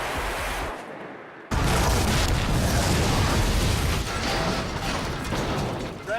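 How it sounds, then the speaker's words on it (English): Explosions and fire on a miniature film set for The Matrix: after a brief quieter moment, a sudden loud burst erupts and turns into a sustained, roaring, crackling blaze with no talking. "we have explosions and fire, and you can't change the size of fire"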